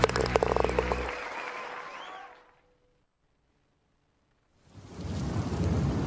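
Thunderstorm sound effect in a radio ad: heavy rain and a rumble of thunder that fade to silence, then a fresh wash of rain returns, loud and close, with no voices.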